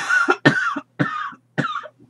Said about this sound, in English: every time I make a video I have to cough